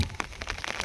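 Rain pattering down in a rural field setting, a brief run of irregular close drops tapping on a surface, moderately loud with no talk.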